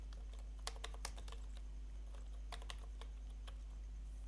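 Typing a plugin search on a computer keyboard for a WordPress tutorial, scattered light key taps in short bursts, faint and close over a steady hum, with no talk.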